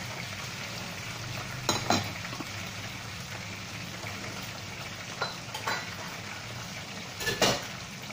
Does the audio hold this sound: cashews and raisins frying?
yes